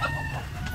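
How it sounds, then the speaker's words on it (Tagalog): White leghorn and barred rock crossbreed hens cluck softly and close by in a short burst, with a faint rooster-like tone mixed in. "Crossbreed ito. Crossbreed ng white leghorn at saka barred rock."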